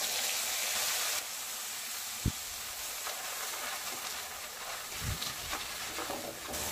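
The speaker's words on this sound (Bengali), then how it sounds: "মিডিয়াম ফ্লেমে ভালো করে কিন্তু ভাজতে হবে যতক্ষণ না পেঁয়াজের কাঁচা গন্ধটা চলে যাচ্ছে" Ground onion paste frying in a pan over a medium flame while cooking Bengali muri ghonto, a steady close sizzling hiss with a few soft pops and knocks along the way.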